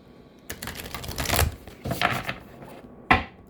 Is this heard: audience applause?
no